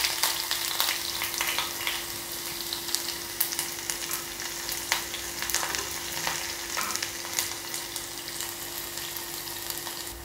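Shallots frying in hot oil just after mustard seeds have popped, for a Kerala-style sardine curry, give a steady close sizzle with faint crackles throughout and no talk.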